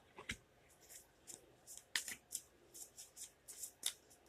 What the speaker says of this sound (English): Another quick shuffle and a cut.